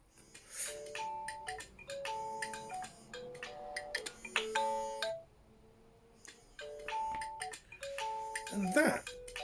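An incoming call on a OnePlus 3 or 3T rings with a repeating melodic ringtone in two phrases separated by a pause, fairly clear and close, while someone talks quietly.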